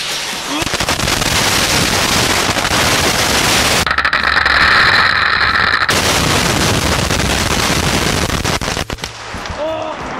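Firecrackers taped to a person's body go off in a rapid chain, a dense crackling barrage of sharp pops lasting several seconds, loud and close, with a brief high hiss partway through and a voice near the end.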